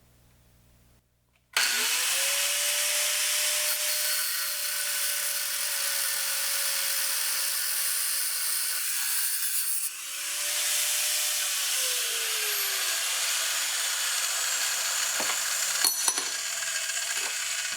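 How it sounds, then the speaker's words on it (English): A loud, sustained whine of a power cutting tool grinding through the metal flange of an old log splitter filter, running continuously with a brief dip in pitch midway before resuming. "is to cut the flange off the old one"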